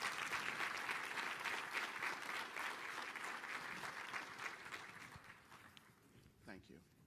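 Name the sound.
applause for department directors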